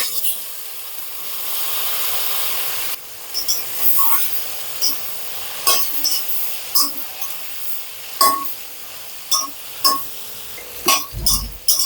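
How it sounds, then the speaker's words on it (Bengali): Okra dropped into melted butter in a pan at medium-high heat, giving a steady broadband sizzle with repeated short clicks and spatters as pieces hit the fat, with no talk. "বাটারটা গলিয়ে নিই। এর মধ্যে ঢেঁড়সটা দিয়ে দিচ্ছি।"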